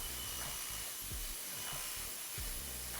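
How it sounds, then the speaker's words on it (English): A 2x72 belt grinder running a 60 grit belt while rough shaping pistol grips, giving a steady loud whir and hiss with brief dips in pitch as the workpiece is pressed on. "we'll take these over to my 2x72 grinder and just start doing some rough shaping on them with a 60 grit belt"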